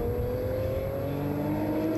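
A Suzuki SRAD 750 superbike engine drones steadily at racing speed during a Golden Era Superbikes race at Snetterton, a continuous mid-pitched whine with no voices.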